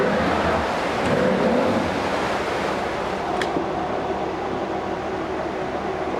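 A 2015 Evinrude E-TEC 150 hp outboard with a 25-inch shaft runs in forward gear, a loud steady engine roar mixed with water churn and no talking.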